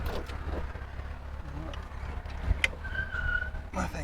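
A 1964 Triumph Herald on a test drive, its engine a steady low rumble throughout, with a brief mechanical squeak partway through and road and wind noise above.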